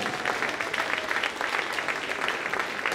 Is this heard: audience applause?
yes